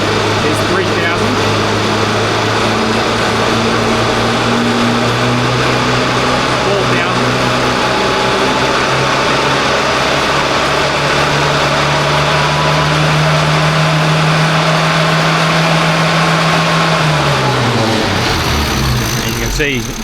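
A 998cc Mini engine held at steady high revs on a tuning run, a loud continuous droning hum that holds its pitch then drops as the throttle closes near the end, with a voice speaking over it.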